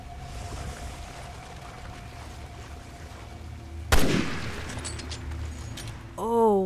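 A single loud gunshot cracks out in the survival-horror game Resident Evil: Revelations 2 against a quiet, rumbling background, followed shortly by a warbling tonal cry.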